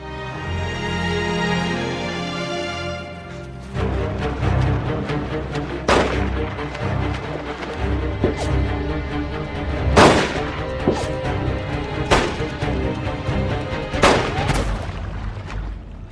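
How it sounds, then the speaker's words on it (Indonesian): Gunshots in a film scene as a gang fires at a young woman fleeing by swimming: after several seconds of sustained tonal music, about five loud, sharp cracks ring out at irregular intervals over a rumbling, noisy background, with no talk. "Namun ternyata dia harus meregang nyawa ditembak Krug and the gang."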